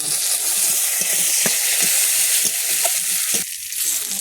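Cumin seeds and bay leaf sizzle in hot oil as a tempering for a Bengali curry: a steady, close, loud frying hiss with scattered small crackles throughout, briefly easing near the end.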